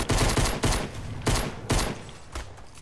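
Pistol shots in the Fortnite video game fire in a fast uneven string of sharp cracks, loud and close, with brief gaps between bursts.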